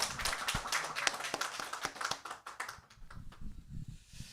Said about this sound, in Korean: 우리 부활하신 주님께 박수로 한번 영광을 돌리겠습니다.